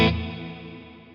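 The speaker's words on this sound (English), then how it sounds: "You've also got the modulated reverb" A guitar note or chord played through the modulated reverb on a Nano Cortex 2.0 pedal: one sharp attack, then a shimmering, slightly wavering tail that fades slowly over about a second, with no voices.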